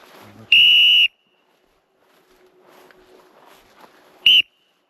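A shrill dog-training whistle sounds two sharp blasts outdoors, a longer one followed by a short one a few seconds later, with faint background noise in between.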